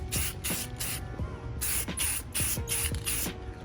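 Spray paint hissing onto a BMW E46 tail light in short, sharp bursts of roughly half a second each, close and fairly quiet, with faint clicks between sprays and no talk.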